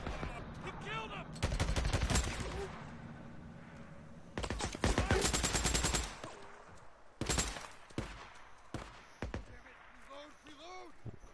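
Gunfire from the video game Days Gone, with bursts of rapid automatic fire and single shots in loud clusters separated by pauses, while a player talks excitedly over it.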